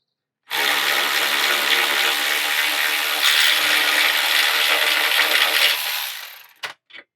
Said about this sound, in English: we'll spin it off, and I'm putting downward pressure with my breaker bar